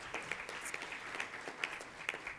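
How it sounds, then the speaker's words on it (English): Audience applause at a public session, a brief spell of scattered handclaps from a modest crowd, fairly quiet and somewhat distant, with no talking. "give them a round of applause for everything they've done to make this happen"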